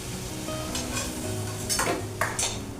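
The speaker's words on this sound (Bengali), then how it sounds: "এবারে সবার প্রথম দিয়ে দিচ্ছি এই শুকনো লঙ্কা দুটো, দিয়ে দিলাম।" Two dried red chillies hit hot oil in a pan, sizzling and frying steadily up close, with a few sharp scrapes and clinks of a spatula stirring.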